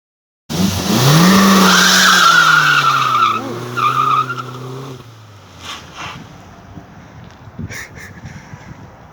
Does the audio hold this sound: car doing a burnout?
yes